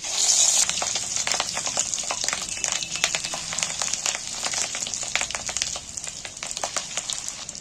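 Small fish egg fritters sizzle in hot oil in a pan, a continuous bright frying hiss dotted with sharp crackles and pops that stays close and fairly loud throughout.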